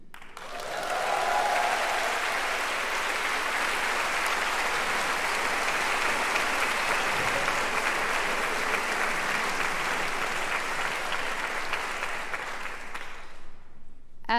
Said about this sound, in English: you're invited to cheer and applause whenever you hear the words, Class of